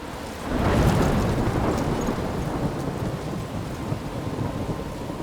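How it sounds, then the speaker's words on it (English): A thunderstorm with rain in the video game Life is Strange Remastered: a loud rumbling thunder swell builds in the first second, then steady heavy rain hisses on alone. "I'm trapped in a storm?"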